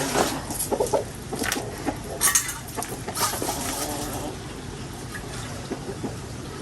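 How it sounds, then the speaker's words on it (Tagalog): Backyard chickens being given water cluck and squawk close by, with bursts of louder calls early on over a busy farmyard background; a person speaks briefly in between. "nagpapainom ah, uh, si Bosing ng kanyang mga alaga na manok."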